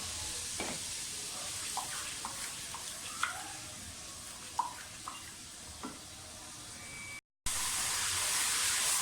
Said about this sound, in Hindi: 2 टेबलस्पून लहसुन अदरक का पेस्ट लिया मैंने। इसको फ्राई करें अच्छी तरह से।